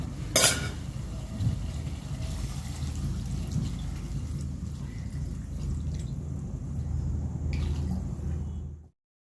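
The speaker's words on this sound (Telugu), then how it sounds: "వాటర్ అయితే పోసుకుంటున్నాను కొంచెం" Water is poured into mutton cooking in a pot, giving a steady, close wash of pouring and light sizzling that runs for about nine seconds before cutting off abruptly.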